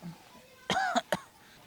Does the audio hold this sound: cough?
yes